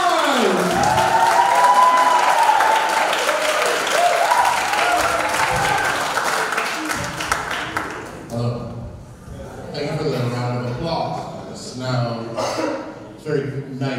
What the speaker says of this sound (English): please give a big round of applause for Big Mike!